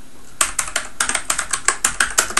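Rapid, crisp keystrokes on a computer keyboard, about a dozen bright clicks in quick irregular succession, close and clear with no voices over them.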